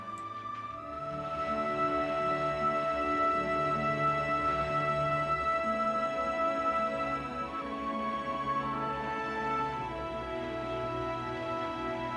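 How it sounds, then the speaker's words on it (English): A constant mechanical drone from the water pump at an artificial waterhole in Etosha, steady and tonal with layered hum, running unbroken in the background throughout. "because it's an artificial well, there is the constant noise of the pump in the background"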